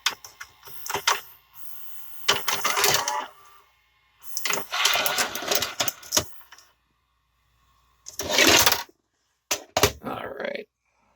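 A GoldStar R-T923M VCR ejects a tape with several bursts of close mechanical whirring, clicking and clattering from the loading mechanism, separated by short silences.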